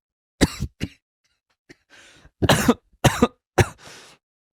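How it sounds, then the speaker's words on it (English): Several close, sharp throat-clearing coughs in short bursts, separated by brief pauses, with a couple of softer breathy rasps between them. "I need to clear my throat with some milk"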